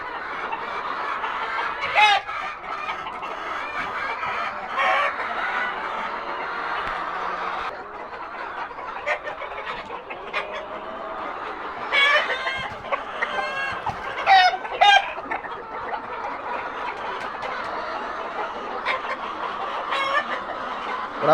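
Five-month-old hens cluck steadily throughout, with a rooster's crow-like calls breaking in at moments; a busy, close coop chorus with no talking.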